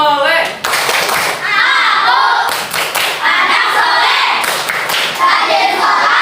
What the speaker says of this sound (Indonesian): yuk kita tepuk anak soleh